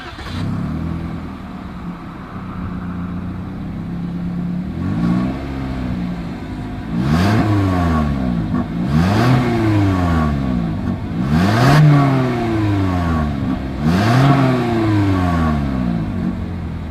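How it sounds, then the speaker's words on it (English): A 2021 Toyota Corolla SE's exhaust idles steadily, then revs repeatedly in four or five sharp bursts that rise and fall, recorded up close with no talking. "As always, here is that exhaust clip."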